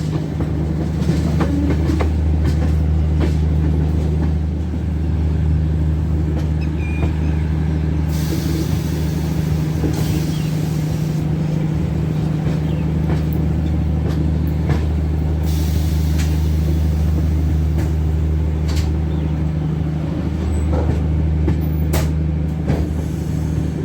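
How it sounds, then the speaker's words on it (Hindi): Kaifiyat Express creeping slowly toward a station platform behind a WDG 6G diesel locomotive, with a steady loud engine drone and low rumble, faint wheel clatter and brief air-brake hisses throughout. "और अब हम बढ़ रहे हैं धीरे धीरे प्लेटफॉर्म की ओर।"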